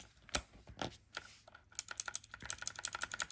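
A mechanical keyboard with clicky blue switches being typed on, a few sharp isolated clicks at first, then a quicker run of crisp, close keystrokes.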